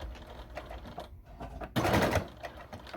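A sewing machine back stitches a slipper in a short, quiet run, a rapid whirring burst that stands out loudly for about half a second amid soft tapping and handling noise.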